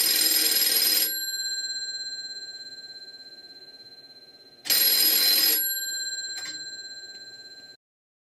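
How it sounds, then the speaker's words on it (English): A telephone bell in a step-by-step switching system rings in two loud bursts about four seconds apart, each followed by a long fading electric hum and a brief clack, then the ringing stops once the call is answered. "When the call is answered, the ringing is tripped immediately."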